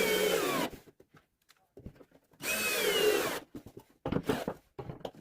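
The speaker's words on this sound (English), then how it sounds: "First, you'll make some pilot holes in the middle piece and fasten it with screws." Power drill making pilot holes and driving screws into a wooden door-hanging jig, two loud close bursts of whining motor separated by quiet handling clatter, followed by shorter rattling bits of work.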